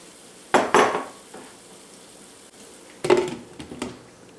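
A lidded pan of frying curry with chives is shaken on the stove, giving two short rattling, sizzling bursts a few seconds apart against a quiet background, with no talking.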